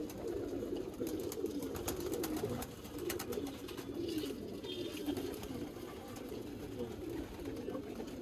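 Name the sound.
pigeons cooing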